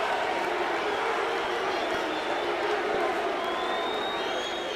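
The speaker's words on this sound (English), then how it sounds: "A lot of booing from the crowd" A large football crowd at a late-1980s Newcastle United match roars and boos in a continuous loud mass of voices filling the stadium, with commentary over the noise.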